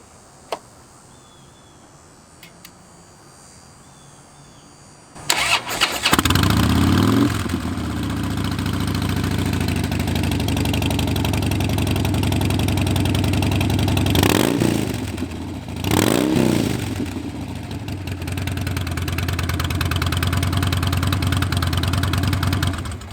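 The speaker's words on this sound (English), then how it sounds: "Let's go ahead and start her up, shall we?" A 2012 Harley-Davidson Dyna Super Glide motorcycle cranks and fires up, then settles into a loud, close, lumpy V-twin idle with a couple of brief throttle blips.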